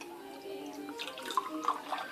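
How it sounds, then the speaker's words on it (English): Water from a glass is dumped out during a St Patrick's Day magic trick, giving soft splashes and a couple of brief drips, fairly quiet and close. "you're going to take your glass, and you're going to dump the water in"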